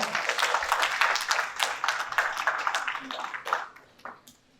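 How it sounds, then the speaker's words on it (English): Applause from a conference audience at a healthcare innovation session, greeting a keynote speaker; dense clapping that builds to full strength, then thins and fades out over several seconds. "Please give a loud round of applause for sir."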